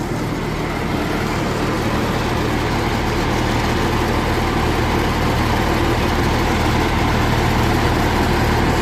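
A tractor engine idles while being moved forward on a trailer, a loud, steady low rumble that runs without a break and has no talk over it.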